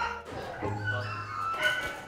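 Dogs yip and whimper close by in kennels at Heathrow Airport, with short barks and whines over a low steady hum in an enclosed space.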